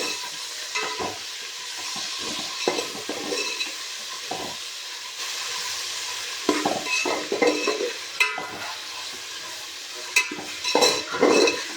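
Chopped tomatoes frying in oil for Chettinad chicken biryani are stirred in a pan, a steady sizzle broken by repeated scraping and clinking of a utensil against the metal.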